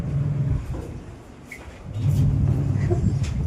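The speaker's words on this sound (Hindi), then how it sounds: "देखो कितनी हवा चल रही है।" Strong gusts of wind buffet a home, a broad low roar that swells, eases briefly in the middle, then surges back loud and steady with faint rustling on top.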